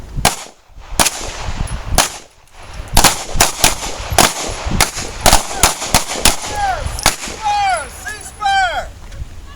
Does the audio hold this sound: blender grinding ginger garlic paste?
no